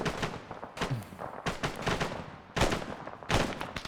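Gunfire in the military video game Arma 3, several sharp shots fired in irregular bursts at close range, loud and alone with no talk.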